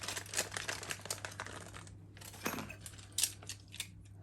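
A resealable plastic bag of hand tools for a Brother KX-390 knitting machine being opened, with close, faint crinkling and rustling, a few sharper clicks and a brief pause midway, no talk.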